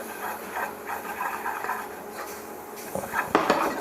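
Butter and plain flour are stirred together in a pan for a roux, with scraping utensil-on-metal sounds and light clinks, soft at first and growing louder, sharper clatters near the end.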